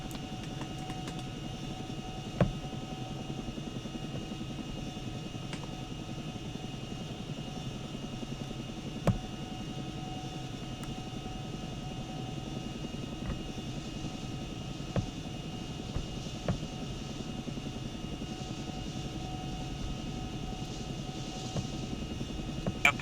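Chinook twin-rotor helicopter in flight in the ArmA military simulator, a steady low rotor drone with a constant engine whine held throughout, punctuated by a few faint clicks.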